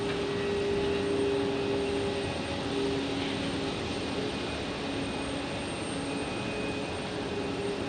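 Jet airliners at Phoenix Sky Harbor Airport, Boeing 737 MAX jets among them, produce a faint, distant, steady roar with a faint whine layered over it, no voices.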